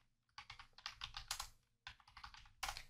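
Quiet, close keystrokes on a computer keyboard while a line is entered in an Excel cell, two rapid bursts of clicking separated by a short pause.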